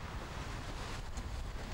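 Waves and gusting wind surround sailing boats racing downwind at a sailing event, a continuous rushing wash of water and buffeting wind noise on the microphone, with no voices over it.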